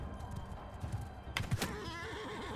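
Horses gallop and neigh in a Bannerlord battle: hoof thuds come first under the background din, then a loud whinny rises and trails off.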